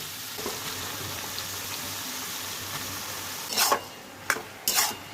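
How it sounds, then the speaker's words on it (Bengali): Sago fries in a pan with carrots and capsicum, a soft low sizzle running steadily until three short, louder bursts of stirring and scraping near the end. "দেখুন, একটু আমরা এর সঙ্গে ভেজে নিচ্ছি গাজর আর ক্যাপসিকামের সঙ্গে।"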